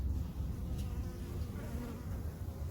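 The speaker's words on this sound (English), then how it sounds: "a couple thousand bees on this tree" A dense swarm of honey bees working a fruit tree for nectar, a steady low buzzing drone filling the air throughout, close and unbroken, with no voices.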